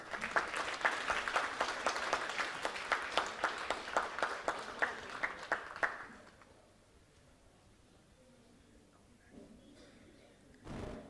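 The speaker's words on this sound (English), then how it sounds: "A big round of applause for Dr. Satendra Singh" An audience at a national medical humanities award ceremony claps loudly for Dr. Satendra Singh for about six seconds, individual claps distinct within the crowd, before it fades to quiet room tone and a brief rustle near the end.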